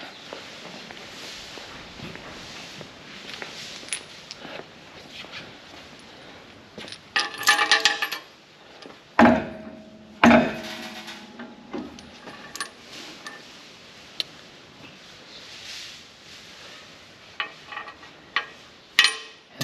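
Bolts being fitted on a loader mount for a John Deere 4010 tractor: scattered metallic clinks and clanks of hardware and tools, a few sharper taps near the end, with no talking.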